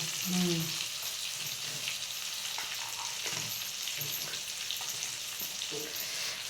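Masala frying with stuffed brinjal in a pan, a steady close sizzle with occasional soft stirring knocks and scrapes throughout, a faint murmur of a voice briefly near the start.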